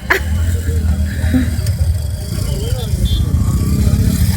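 Crowded Belagavi food festival with many motorbikes and traffic droning and revving close by, under a voice talking throughout.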